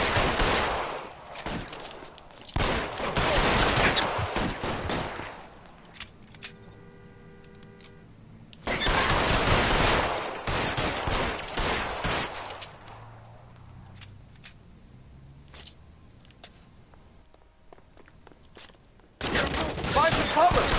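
Gunfire erupts in a shootout in the video game L.A. Noire, loud bursts of rapid shots separated by quieter gaps, with a voice briefly heard between volleys.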